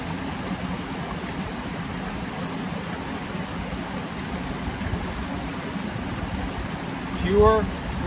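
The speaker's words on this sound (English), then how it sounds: "Pure flowing water." A stream flows steadily outdoors, a constant broadband rush of water running evenly throughout, with a brief brighter tonal chirp near the end and no talking.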